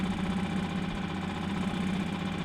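A small 6-horsepower outboard boat motor drones steadily at close range, a rough, vibrating idle with a constant low rumble and no voices.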